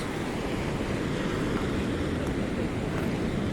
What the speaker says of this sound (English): You really just gotta watch out for the waves.